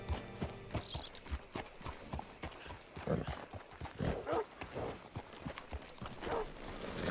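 Horse hooves in Red Dead Redemption 2 clip-clop steadily at a walking pace, close by, with a few louder footfalls and faint background ambience.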